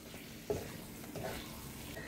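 Chicken with crushed black pepper and chopped curry leaves being stirred in a hot pan, a low steady sizzle with a single sharp scrape of the spoon against the pan.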